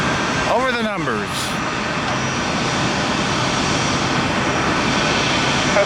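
An American Boeing 737 jet lands on runway 19 right at Tampa. A loud, steady engine roar carries on throughout, and a brief voice cuts in near the start.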